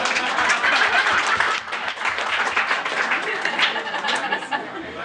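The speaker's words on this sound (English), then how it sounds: "I think we should all give her a round of applause for that very musical performance we all just heard." A crowd at a humour panel applauds loudly and steadily after a musical performance, with scattered chuckles and laughter mixed into the dense clapping throughout.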